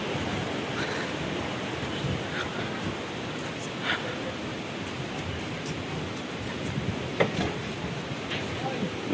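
Water rushing at Wawa Dam, a broad, constant roar of torrent flow that stays loud and unbroken throughout, with a few faint clicks and knocks on top.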